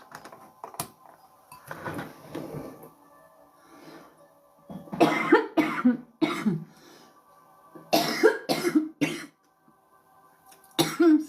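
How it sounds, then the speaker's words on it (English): Several sharp coughs and throat clearings burst out in irregular clusters, close and fairly loud, with quiet gaps between the fits. "Has somebody got a bad cough?"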